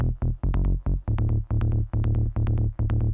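A punchy trance synth arpeggio cycles quickly through short repeated notes in a tight rhythmic pattern, loud and upfront with no other sounds.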